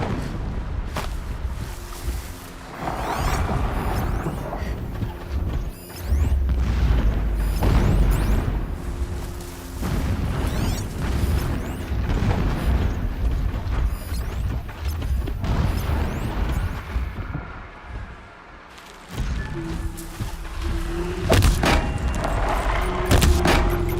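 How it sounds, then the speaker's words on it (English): Distant explosions rumble in the video game Horizon Zero Dawn, deep booms and crashes rolling under a busy, layered game soundscape over about twenty-four seconds, with no speech. "Explosions in the distance."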